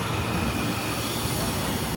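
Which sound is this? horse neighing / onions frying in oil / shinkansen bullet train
shinkansen bullet train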